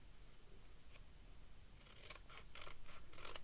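Scissors snip through paper in a quick run of crisp cuts, close and soft, growing denser toward the end.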